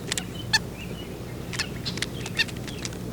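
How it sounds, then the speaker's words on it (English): White-breasted nuthatches call from a hickory tree beside a house, giving sharp, separate nasal notes in scattered bursts. The calls come from overhead at a middle distance, over a quiet outdoor background. "They are white-breasted nuthatches, searching for insects under the bark."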